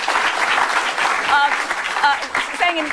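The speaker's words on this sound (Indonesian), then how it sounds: "Mudah-mudahan kita kasih tepuk tangan pada keyakinan itu." A studio audience at a televised Indonesian political talk show breaks into loud, dense clapping that holds steady for a few seconds, with a few cheers or whistles rising above it.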